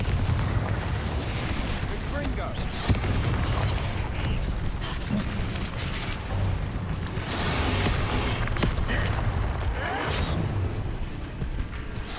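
A Confringo spell explosion in the video game Hogwarts Legacy: a dense, rumbling burst of blasts and crackles over busy game music and effects, loud and sustained through the moment.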